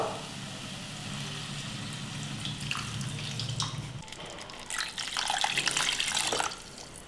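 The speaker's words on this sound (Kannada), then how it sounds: "ಈ ಕಪ್ನಿಂದ ನೀರನ್ನ ಅಳತೆ ಮಾಡಿ ಹಾಕೊಳ್ಳೋಣ" Water splashes steadily into a pot, three measured cupfuls poured for spinach pulao, a continuous pouring rush that grows brighter and louder toward the end, with no talking.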